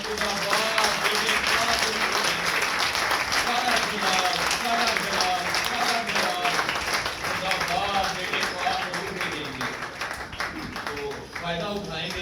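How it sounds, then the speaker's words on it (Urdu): A church congregation claps loudly and continuously through a Sunday service, dense rhythmic applause filling the room while voices shout and talk over it. "زوردار تالیاں"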